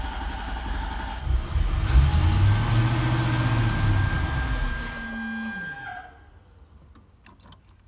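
A 1991 Corvette ZR-1 with a stalling fault cranks and catches, then its engine runs and revs in a rising and falling drone before dying away and going quiet near the end.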